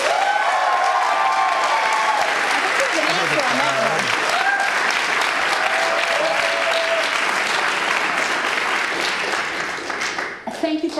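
A large audience applauds continuously at a city policy event, a dense, steady wash of many hands clapping that holds at full strength before fading slightly near the end.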